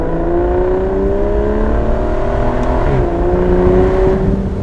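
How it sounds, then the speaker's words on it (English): Aston Martin DBS V12 engine revving loud and close as the car climbs through the gears, rising harmonic tones swelling steadily, one brief dip as a gear changes, with no talk over it. "you can start to go through the gears and hear a little bit of this gorgeous V12"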